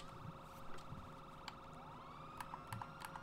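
An emergency vehicle siren in the FiveM game wails faintly and steadily in the background, under sharp keyboard clicks and taps.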